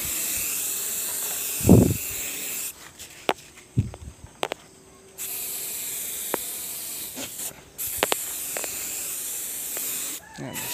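Long stretches of steady hissing insecticide spray against mosquitoes on a farm, broken by short pauses and a few knocks and footsteps nearby.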